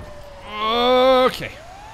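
A fire truck siren in Grand Theft Auto 5 gives a rising wail that swells loudly and then cuts off abruptly mid-tone, with a short electronic chirp and engine hum after it.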